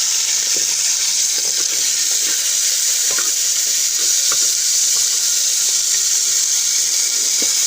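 Chicken frying in a pan sizzles loudly and continuously, a close hiss with occasional stirring clicks and no voices over it.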